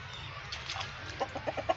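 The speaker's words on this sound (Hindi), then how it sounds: "बहुत ही असील, बहुत ही नायाब मुर्गी है" An Aseel breed hen clucks in a short series of soft, rhythmic pulses over a low background hum, growing a little more distinct toward the end.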